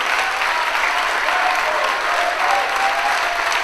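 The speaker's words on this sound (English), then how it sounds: "crowd showing their appreciation for these two." Steady, dense applause fills a wrestling event crowd after a women's match, continuous and fairly loud with no distinct voices standing out.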